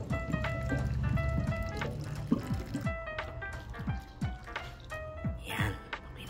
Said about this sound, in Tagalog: dito na lang natin ilagay yung mainit na tubig